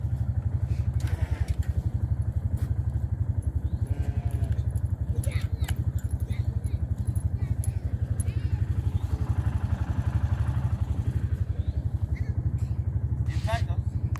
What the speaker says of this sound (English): Yeah, the tractor's moving.